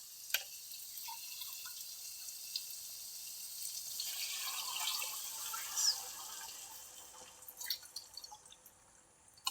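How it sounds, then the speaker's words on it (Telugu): Water being poured into a pan for wheat rava upma, a faint light trickle and splashing with a few small clinks, quiet and close, with no voices. "గ్లాస్ రవ్వకి గ్లాసున్నర నీళ్ళు పోసుకుందామండి"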